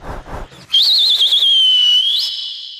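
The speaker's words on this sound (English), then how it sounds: "Start the whistles." A loud, shrill whistle is blown at a cricket-league auction event at PIBM Pune, cheering on Chennai Super Kings. It rises after a brief bit of talk into one long warbling blast, then holds a steady tone that fades slightly at the end.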